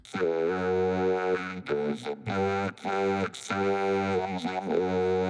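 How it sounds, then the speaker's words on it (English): Vocals processed by the vocoder in iZotope Vocal Synth 2, giving sung phrases a buzzy, robotic, chordal tone in several sustained bursts separated by short gaps. "I like to use vocoder, so I just use these settings here on Vocal Synth 2 by Isotope."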